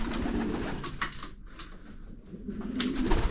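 Shami pigeons coo in a loft, soft repeated throaty calls close by with faint rustling between them.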